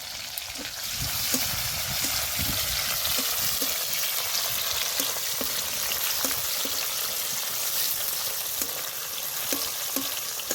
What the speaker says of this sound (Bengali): কুচি করা পেঁয়াজ আর দিয়ে দেবো কুচি করা টমেটো ভালো করে ভেজে নেবো